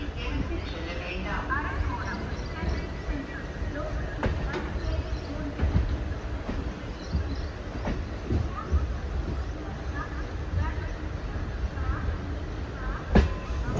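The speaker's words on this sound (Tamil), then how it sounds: "நம்ம ட்ரெயின் பார்த்திங்கன்னா கரெக்டாக ஆன் டைமுக்கு திருவள்ளூர்லேருந்து டிபார்ச்சராக போயிட்டுருங்க." Tiruvallur-Avadi suburban local train pulling out of the station, a steady broadband rumble of rolling wagons with a few sharp clanks, heard from close by amid background crowd noise.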